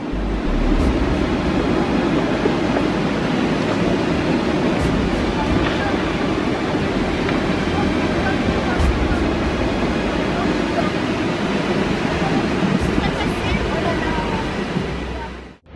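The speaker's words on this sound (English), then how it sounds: "Brave climbers captured this classic spring avalanche in the French Alps on video. Mixing with a stream, it ends its rapid descent at the bottom of the valley." A spring avalanche in the French Alps rushes down a valley into a stream, a loud, steady, broadband roar of snow and water that holds constant for the whole stretch before cutting off abruptly at the end.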